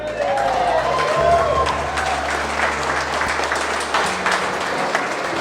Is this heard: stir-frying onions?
no